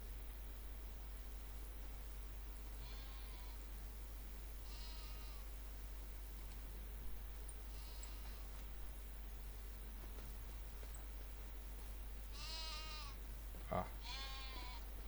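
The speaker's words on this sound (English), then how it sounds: "that we have our sheep" Black Welsh Mountain sheep, a small flock of about ten, bleat on a farm in several separate calls, a few overlapping near the end, over steady low background hum and hiss, with one brief voiced exclamation.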